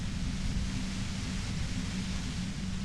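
Steady low rushing static hiss from the game Disco Elysium, an unbroken wash of noise heavy in the low end, constant and even with no voices over it.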